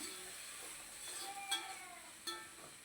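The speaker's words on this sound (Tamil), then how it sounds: "புதினா மல்லி இலையை போட்டு அதையும் நல்லா வதக்கிக்கலாம்" Mint and coriander leaves sautéing in a pan for jackfruit biryani, a soft steady sizzle with faint stirring scrapes and a couple of brief clinks, close and alone.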